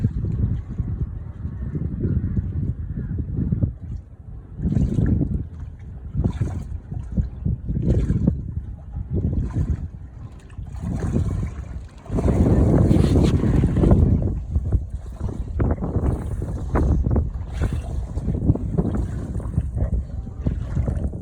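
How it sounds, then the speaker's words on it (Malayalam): Wind gusts across an open boat on backwaters, roaring into the microphone in loud, uneven surges with buffeting thumps and rustles, heaviest midway through, without anyone talking. "കാറ്റുണ്ട്, എന്നാലും വലിയ കുഴപ്പമില്ല."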